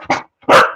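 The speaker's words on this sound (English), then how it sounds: "that's my dog." A pet dog barks twice at close range, a short bark followed by a louder, longer one after a brief pause, with no talking over it.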